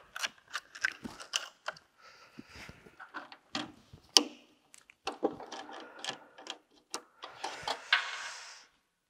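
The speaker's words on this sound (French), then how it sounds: "Je vais dans un premier temps remplacer le galet d'entraînement en fil fourré." Mechanical clicks, snaps and small metallic rattles as the wire drive roller is swapped on a MULTIPEARL 200-2 welder set up for flux-cored wire, irregular close handling sounds with brief pauses.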